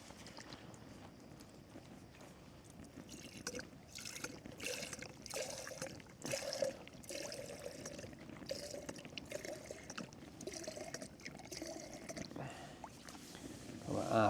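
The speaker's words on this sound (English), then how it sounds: "Stick some water in." Half a litre of water poured into a pot on a low-lit camping stove at a wild camp on Falcon Crag, Borrowdale, a steady trickling pour with clinks, close and moderately loud over outdoor background.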